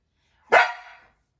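A single sharp dog bark during an eye-contact focus training session, loud and close, with a short tail and silence before and after.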